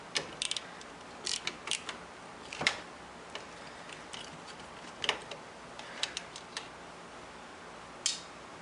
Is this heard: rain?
no